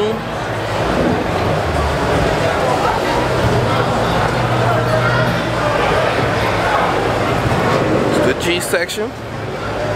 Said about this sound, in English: I don't know if you can hear anything other than these loud cars